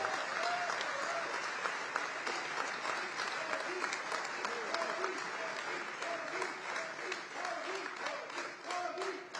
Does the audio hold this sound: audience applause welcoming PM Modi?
yes